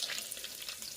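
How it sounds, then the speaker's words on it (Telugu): A golden-fried onion tempering is poured into tamarind dal rasam, giving a faint, crackly sizzle with soft watery bubbling over a brief moment. "ఇప్పుడు ఈ తాలింపు కొంచెం ఎత్తి రసంలో వేద్దాము"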